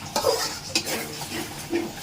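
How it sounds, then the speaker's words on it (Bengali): Chili and potato paste frying in oil in a pan, stirred with a utensil that scrapes and knocks a few times over a soft, steady sizzle. "এটা এখন আস্তে আস্তে তেলের উপর একদম ভাজা ভাজা হবে।"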